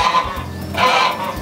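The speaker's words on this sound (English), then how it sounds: "those are my Chinese geese, Chinese geese and other birds." Chinese geese kept among other farm birds honk loudly and close, two nasal calls in quick succession within a moment and a half, with no talking over them.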